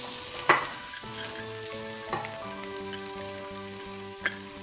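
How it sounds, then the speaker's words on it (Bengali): Grated carrots frying in hot ghee in a wok, a low steady sizzle with a couple of sharp stirring clinks, faint and close, with no voices. "আমরা এটাকে একটু ভেজে নেবো হালকা।"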